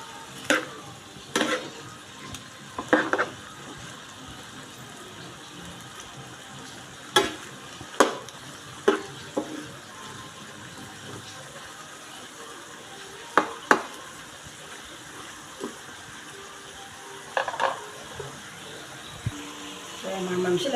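Carrots and potatoes stirred in a pan of frying igado, a Bicolano pork and liver dish: soft scraping spoon strokes and intermittent clinks over a continuous sizzle, with a voice talking at times.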